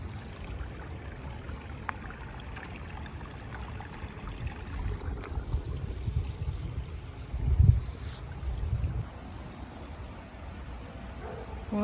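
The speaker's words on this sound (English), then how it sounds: "I love being near the running water." A creek running outdoors, a steady soft rush of flowing water heard from nearby, low and even with a slight swell partway through.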